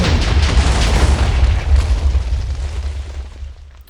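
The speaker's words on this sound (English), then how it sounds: "That worked, but we have a problem. Kaboom!" TNT exploding in the video game Minecraft, a loud, close, rumbling boom whose roar slowly fades out over a few seconds.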